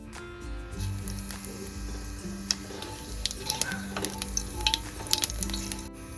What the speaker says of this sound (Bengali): মাছ ভেজে তুলে নিয়ে ওই তেলেই দিয়ে দেবো হাফ চামচ কালো জিরে ফোড়ন